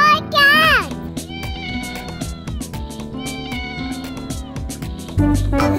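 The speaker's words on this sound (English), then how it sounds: "C for cat." A cat meows clearly at the start, a sliding falling cry, followed by steady music with a voice over it.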